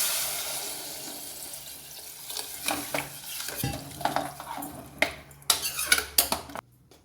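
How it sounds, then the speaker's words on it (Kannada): Water splashes into a hot pan of vegetables with sizzling, followed by stirring and clinking of a utensil against the pan, close by. "ಇವಾಗ ಇದಕ್ಕೆ ನೀರು ಹಾಕ್ಕೊಳ್ಳಿ."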